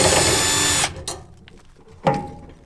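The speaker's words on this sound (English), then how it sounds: "So just take these 2 Phillips screws out" A power screwdriver backs two Phillips screws out of a gas dryer's valve-coil bracket, with a loud steady whir for almost a second, then short clicks and a second brief burst of spinning near the end.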